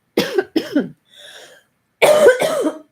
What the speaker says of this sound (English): I'm sorry for be coughing in live.